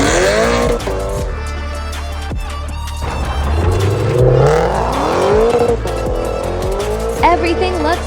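A supercharged Lexus on a test drive after a fresh supercharger install and base ECU tune, its engine note rising and falling loudly and close, with tire noise as it pulls away and accelerates.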